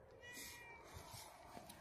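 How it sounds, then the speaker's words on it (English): A cat meows near a workshop where an old National 84-inch reel mower is being restored, a short faint cry rising and falling against quiet background hiss. "The cat has come to join us."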